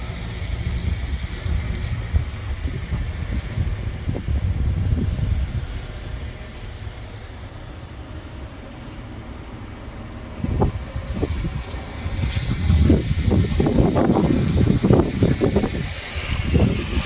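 Strong wind gusts of a snowstorm in Grenoble, Isère, buffet the microphone in rumbling surges, easing in the middle before roaring back harder.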